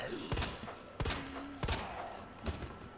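Gunfire in Resident Evil 2 Remake: four heavy shots spaced irregularly, each a sharp crack with a booming low tail, set against quiet game ambience.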